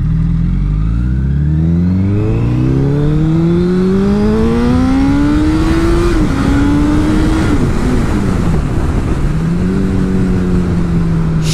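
A motorcycle engine revs up hard through the gears, pitch climbing, dropping at each shift, then climbing again, loud and close.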